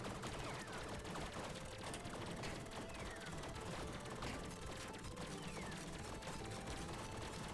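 Guns fire rapidly in the roguelike game Tiny Rogues, a dense, steady clatter of quick mechanical shots that runs unbroken under busy game effects, with a voice talking over it.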